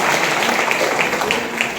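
An audience at a live comedy performance applauds loudly, a dense continuous wash of clapping that holds for the whole short stretch.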